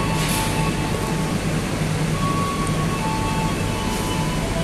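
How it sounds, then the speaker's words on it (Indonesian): A Bombardier-built airport train at a Jakarta station, with a steady broadband rumble and hum from rolling stock throughout, plus faint tonal whines and a few light squeals as it briefly stops. "Ini keretanya yang bentar saja ya untuk berhenti"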